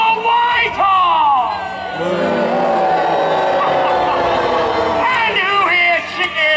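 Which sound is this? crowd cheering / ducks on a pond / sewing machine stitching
crowd cheering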